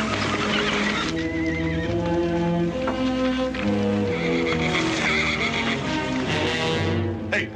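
Horses whinny over a dense, continuous musical bed, with a faint clip-clop of hooves woven through; the animal calls sound mid-distance and partly masked.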